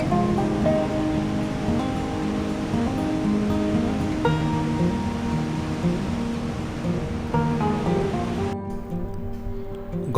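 Steady broadband rush of a mountain waterfall on the Nandi Kund trek, a continuous wash of falling water heard close and fairly loud, with a faint tonal hum running beneath it until it drops away near the end.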